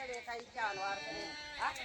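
Katewadi goats bleat in a couple of wavering, nasal cries over a low background murmur, fairly close.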